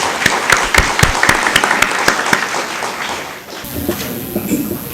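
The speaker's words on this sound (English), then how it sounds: "Please help me recognizing these students with a big round of applause." Applause for graduating students at a college graduation ceremony, with crisp individual claps over a broad crowd clapping that then quiets to a softer murmur with some talk.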